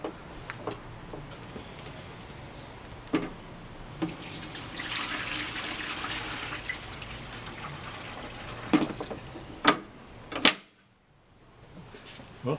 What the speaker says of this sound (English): next we'll put the water in the tray here